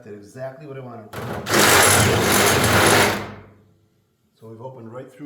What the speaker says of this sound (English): this pyramid drill, or step drill they call it, will just do the rest of the work